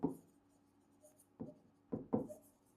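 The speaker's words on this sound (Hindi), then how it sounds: "देखो मैं डायरेक्टली लिख रहा हूँ" Chalk or marker on a classroom board makes a few quiet, scattered scratches and taps during a maths lesson, with near silence between strokes.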